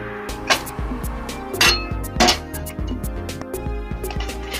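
A pressure cooker being shut while cooking chickpea curry, giving a few metallic clinks and knocks of the lid over a steady background of other sound.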